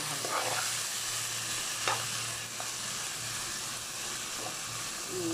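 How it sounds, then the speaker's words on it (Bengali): Vegetable bhaji with turmeric and green chillies fries in a pan, giving a steady close sizzle throughout with a few soft stirring scrapes and no talk. "এখন ভালো করে দিয়ে ভাজি করে নেব"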